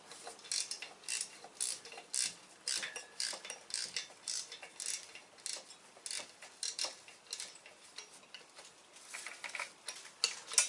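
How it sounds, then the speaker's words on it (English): Fine-toothed ratchet clicking in rapid, dense bursts, a quick run of bright ticks repeating steadily throughout, fairly close and with no talking. "with these finer toothed ratchets,"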